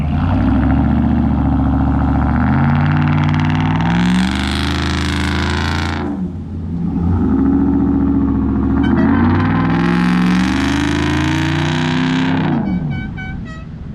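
A 2019 RAM Rebel pickup truck's engine, heard with the windows down inside a tunnel, roars loudly and echoes, rising through two long revving pulls.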